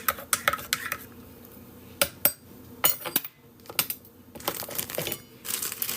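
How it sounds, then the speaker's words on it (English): A spoon stirs milk into a mug of hot cocoa, producing close, irregular clinks and scraping taps against the cup in quick clusters with short pauses between, no voices. "And then I'm just going to stir, stir, stir."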